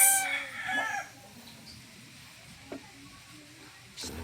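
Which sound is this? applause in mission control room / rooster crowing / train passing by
rooster crowing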